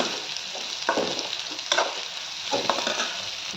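Bitter gourd frying in a little oil in a pan, a continuous close sizzle broken by several sharp stirring bursts, with no voices.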